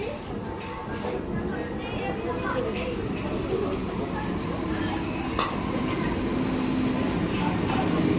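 A suburban train at a busy railway station near Sealdah rumbles with a dense, continuous roar of wheels and carriages, mixed with crowd murmur and a brief high squeal, fairly loud and sustained.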